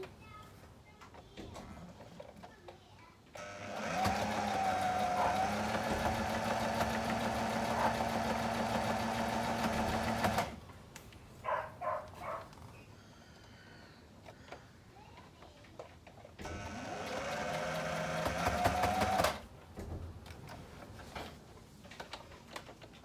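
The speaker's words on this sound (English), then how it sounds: "And I'm going to top stitch that seam." A sewing machine topstitches a seam on a wheat bag, whirring steadily in two runs, the first about seven seconds long and the second shorter, with quieter handling clicks in the pause between them.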